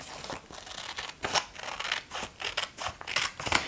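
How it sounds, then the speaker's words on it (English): Scissors cut paper for a handmade junk journal, producing a quick series of crisp, close snips in an uneven rhythm, with no voices. "I'm just going to cut it down to this line right here."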